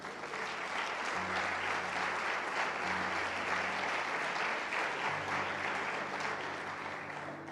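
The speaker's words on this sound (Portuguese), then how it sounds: "Pode aplaudir Jesus." Dense, steady applause from a church congregation during a worship service fills the whole stretch, with low sustained instrumental tones underneath and no talk over it.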